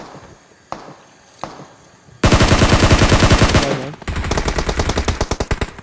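Gunfire in the mobile battle royale game PUBG Mobile: two sharp single shots, then a loud sustained burst of rapid automatic fire, a brief gap, and a second rattling burst, all close and with no talking.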